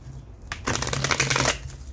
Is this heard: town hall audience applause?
no